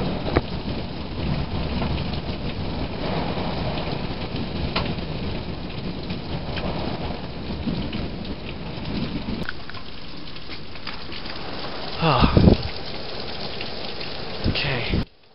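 A heavy rainstorm with wind and thunder pours steadily and loudly. A close rumble of thunder swells near the end, and a person exclaims faintly in the background.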